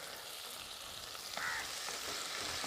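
Green chilies and masala sauté in a pan with a soft, steady sizzle and faint stirring, quiet and close, with no voices.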